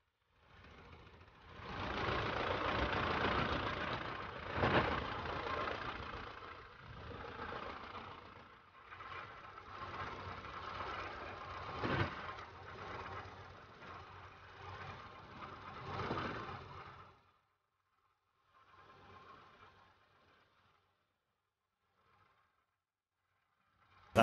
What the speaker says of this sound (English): That's the first traction engine ever to have driven across the fourth bridge under its own steam.